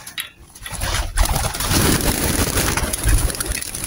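Racing pigeons released from a loft, with a loud continuous flurry of flapping wings and birds close by, cooing faintly beneath it.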